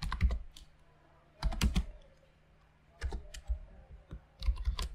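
Bursts of keystrokes on a computer keyboard while typing CSS code for a button hover effect, clustered in quick rapid runs separated by short pauses, close and fairly quiet.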